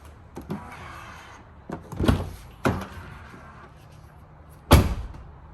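Soft-closing doors of a Tesla Model Y fitted with a Hansshow kit whir and clunk shut nearby, several distinct closing thuds spread out over a few seconds against a quiet background.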